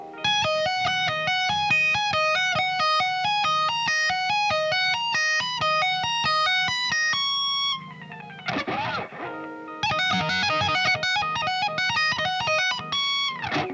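An electric guitar plays a solo at a slowed practice tempo, a steady run of clean, evenly picked notes that pauses briefly, then resumes with a slide and a fast flurry, loud and unaccompanied.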